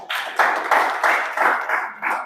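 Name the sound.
audience clapping for OQATA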